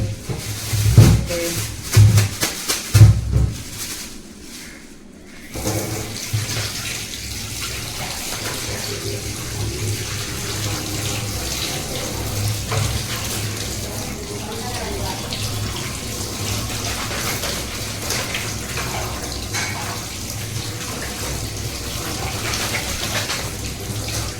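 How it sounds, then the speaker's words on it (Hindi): Tap water runs steadily into a sink as food is washed, a continuous close gush with louder knocks and handling noises at the start. "इसको धो लेते हैं, फिर हल्दी नमक डाल कर देते हैं"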